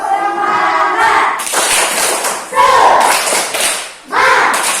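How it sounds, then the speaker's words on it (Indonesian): Schoolchildren in a classroom perform the tepuk semangat clapping chant, with quick rhythmic claps and voices chanting together in loud bursts close by, separated by short pauses. "ayo kita tepuk semangat dulu, anak-anak"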